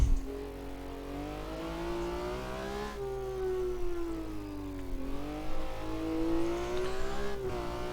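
BMW M1 Pro race car in Automobilista 2 at Interlagos, its engine revving hard with rising and falling pitch as it shifts between gears, a steady loud drone throughout with no talk.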